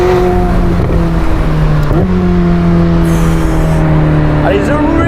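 A McLaren 765LT Spider supercar roars loudly and steadily from up close, its engine note rising and shifting in pitch throughout the five seconds, with a brief change near the two-second mark.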